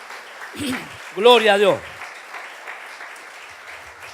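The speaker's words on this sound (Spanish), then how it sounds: "Aplauda a Jesús, dele gloria a Él." A church congregation at a Sunday service claps in praise, heard as a soft, continuous patter behind a voice calling out.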